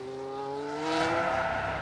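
In F1 Manager 2022, a race car spins with rising tire squeal and a whining engine tone that climbs and sweeps in pitch, loud and continuous.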